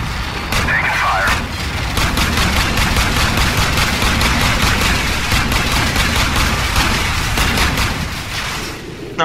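Rapid, sustained gunfire from Call of Duty 4: Modern Warfare, with dense overlapping bursts and shots cracking almost continuously at high, steady loudness for the whole stretch.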